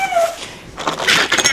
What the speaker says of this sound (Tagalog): Yung aso talaga hindi mapakali.